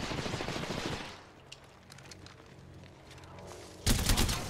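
Video game gunfire from the gold gun in Apex Legends: a loud burst of shots at the start, quieter scattered game noise in the middle, then another sharp loud burst near the end, with no voices.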